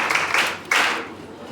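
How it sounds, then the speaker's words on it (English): A short burst of clapping from a small audience, two quick waves of hand claps that fade out within a second and a half. "Give her a round of applause."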